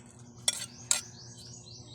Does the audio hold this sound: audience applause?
no